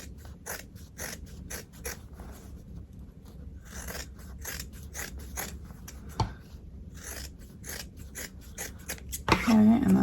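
Repeated crisp snipping of scissors through fabric in a steady rhythm, fairly close, with a few louder clicks near the end.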